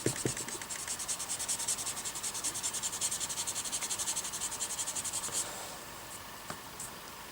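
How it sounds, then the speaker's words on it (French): Dry sanding of polymer clay (Fimo) with Abranet mesh abrasive: a steady, rhythmic rasping scrub of quick back-and-forth strokes, close and fairly loud, easing into lighter, sparser rubbing near the end. "Voilà, on ponce, vous voyez, ça devient tout lisse."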